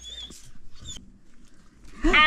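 Dogs bark and yelp in short bursts around work on a boa snake enclosure, with a louder cluster of barks at the end, mixed with faint voices nearby.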